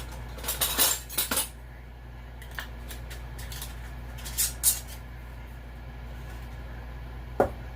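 Glass canning jars are set into a pot of rapidly boiling water, clinking sharply in a few bursts over a steady low rumble and hum.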